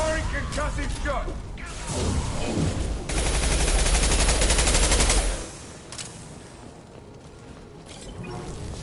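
A concussive shot fired in Mass Effect 2 bursts out as a loud, dense blast of crackling impact lasting a couple of seconds, set amid ongoing combat noise and mechanical clatter.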